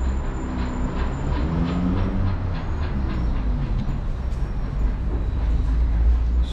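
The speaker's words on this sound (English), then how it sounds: "We are entering the metro tram. That is actually an underground tram." An underground metro tram in Volgograd rumbles steadily, with a deep low roar, rhythmic track clatter and a faint high whine, sounding close and continuous throughout.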